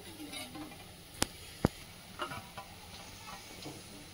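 Chicken keema browning until golden in a pan gives a soft, steady sizzle with gentle stirring scrapes and two sharp metallic taps early on, heard alone at low volume.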